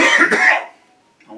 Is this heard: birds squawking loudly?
no